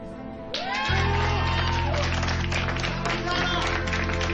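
A small group applauds a woman named Clara on her return, with clapping rising after a short pause and continuing steadily under a voice.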